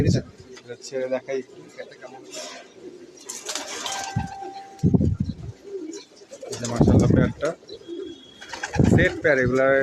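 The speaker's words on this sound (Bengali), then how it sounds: "আর এই যে কবুতর পাক" Pigeons coo in short, repeated calls mixed with clinks and rustling, close to the listener, while someone talks over them.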